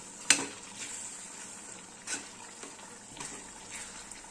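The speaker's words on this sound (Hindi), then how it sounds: "तड़के को भुनने के बाद डाल देंगे साग।" Hot oil tempering sizzles steadily while greens are added and stirred in a pan, with a few sharper scraping clatters along the way.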